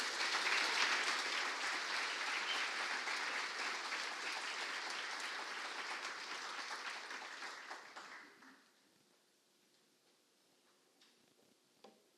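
A lecture hall audience applauds to welcome an Oxford lecturer, Dr. Simon Horobin, to a talk on C.S. Lewis's poems: steady, dense clapping for about eight seconds that trails off into near-silence.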